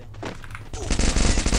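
Rapid bursts of video game gunfire, loud and dense, kicking in after a quieter opening and continuing as a sustained volley.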